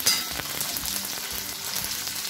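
Green chillies sauté in about seven to eight spoons of hot oil for mirchi thecha, a steady close sizzle with a sharp crackle at the start and faint stirring beneath, no voices.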